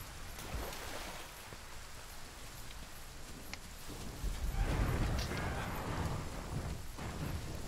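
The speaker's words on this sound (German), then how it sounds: "Es regnet." Rain falling in the game Monster Hunter World, a continuous hissing downpour that swells louder partway through, with low rumbling underneath.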